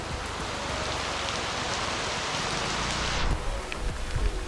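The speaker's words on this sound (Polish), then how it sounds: "Tam nie pada, Tutaj pada, tam to leje." Steady rain hisses down in a dense, even wash of noise, with a few heavier patters and knocks toward the end.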